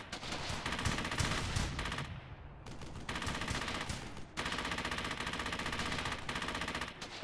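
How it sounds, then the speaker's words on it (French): Rapid machine-gun bursts and rifle fire from the World War II shooter Brothers in Arms: Hell's Highway rattle in loud, dense volleys with a brief lull partway through. "Quoi ce délire? Ça tire là-bas, sérieux?"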